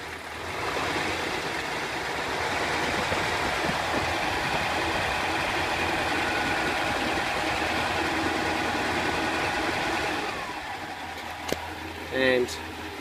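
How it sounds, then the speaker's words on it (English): A cold-started engine running without choke idles smoothly and quietly at close range, a steady hum for about ten seconds before it drops away, followed by a few brief clicks. "Really nice quiet engine,"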